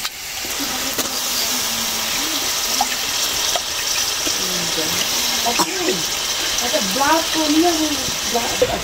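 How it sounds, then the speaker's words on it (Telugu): Raw prawns being washed in water at a home kitchen, with steady running and splashing water throughout and a voice talking over it. "ఇప్పుడైతే కడుగుతున్నాం."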